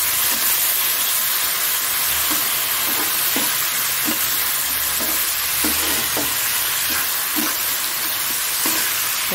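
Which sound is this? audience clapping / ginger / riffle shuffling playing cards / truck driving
ginger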